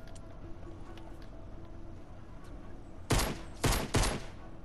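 Three loud bursts of rapid gunfire from the video game Fortnite ring out in quick succession near the end, over a quiet, low background of game ambience.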